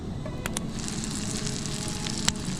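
Butter sizzling in a pan with seasoned salmon nuggets, a steady close crackling hiss with a few sharp pops, no talking.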